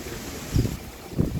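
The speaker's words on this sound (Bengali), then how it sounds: "কি পরিমাণ শীতের বাতাস চলতেছে" Gusty cold winter wind on a rooftop buffets the microphone in low, rumbling bursts over a steady airy hiss, with two stronger gusts standing out.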